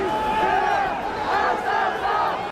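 A crowd of protesters in Paris at violent demonstrations against President Emmanuel Macron, many voices shouting and chanting together in a dense, continuous, loud roar.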